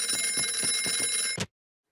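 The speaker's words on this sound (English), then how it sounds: "I'll get the phone." A cartoon telephone bell rings in a rapid trilling burst with a regular pulsing rhythm, then stops abruptly as if picked up.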